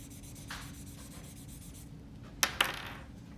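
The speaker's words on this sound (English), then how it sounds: "you just take your blender marker, go right over this section you want to transfer" Soft, quiet rubbing of a blender marker over copy paper as an image is transferred, a faint continuous scratchy stroke followed by two sharp taps near the end.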